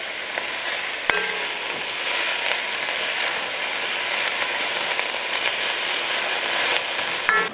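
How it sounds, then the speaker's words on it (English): Vegetables for tortilla soup sauté in a pan with a steady, even sizzle, close and continuous, broken by an occasional light clink of a utensil. "I'm just going to go ahead and saute until the veggies are soft"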